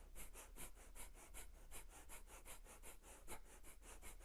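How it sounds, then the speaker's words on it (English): Quick, even nasal breaths in and out during a pranayama exercise with the belly snapping in, about four per second, close-miked and soft, heard alone without talking. "So it's really short breaths, in and out, in, out, in, and in, out, in."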